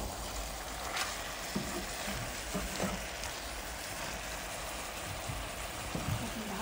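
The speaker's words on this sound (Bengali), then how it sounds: "ভালোভাবে কষিয়ে নেব।" Chicken pieces coated in spices sizzle steadily in a pan while being stirred and fried down, a continuous close crackle with a few soft spoon scrapes, no voices.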